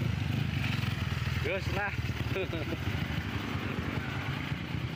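A bored-up Diablo motorcycle engine idling with a steady, throbbing, mid-pitched rumble close to the recorder, while someone speaks briefly over it.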